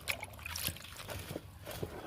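Water from a bucket trickles and splashes over broken cow dung cakes in a home compost setup, a soft, uneven pouring sound with no talking.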